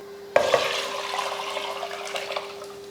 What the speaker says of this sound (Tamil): அதில் தான் இப்போ தண்ணி ஊற்ற போகிறோம்